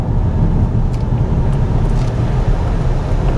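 A VW Arteon R Shooting Brake driving in race mode over bumps, heard as a steady, loud low engine and road drone from inside the car, with no one talking.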